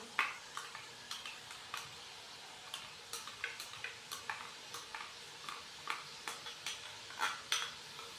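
A spoon stirs yogurt and chopped tomato into biryani masala in a pot. Soft, rhythmic scraping strokes repeat about twice a second over a faint background, and no one talks.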